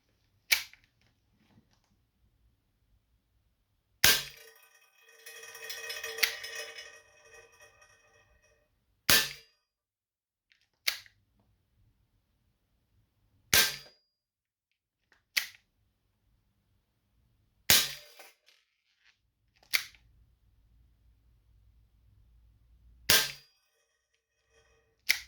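An airsoft gun fires steel BBs in about eight sharp, loud single cracks spaced several seconds apart, with a brief rattling mechanical whir between two early shots and quiet pauses otherwise, no speech.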